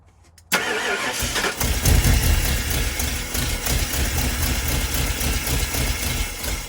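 A car with a swapped BBF engine turns over and fires after half a second of quiet, then settles into a loud, steady idle that rumbles on close by, with no talk.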